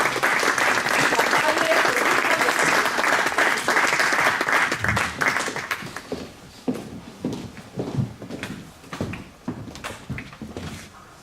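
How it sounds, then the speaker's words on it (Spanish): Audience applause at a cultural event: dense clapping for about five seconds, then thinning into scattered individual claps that fade toward the end. "Ahora sí, un gran aplauso a"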